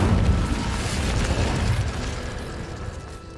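An Incendio fire spell cast in Hogwarts Legacy produces a rumbling, whooshing burst of flame, loud at first, then settling into a crackling roar that slowly fades.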